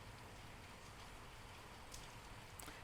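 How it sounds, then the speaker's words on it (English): Steady rain falls outside, heard from upstairs indoors on a humid day, a continuous broadband patter with a few sharper drip spikes near the end, moderately faint and with no talking over it. "I don't know if you hear the rain."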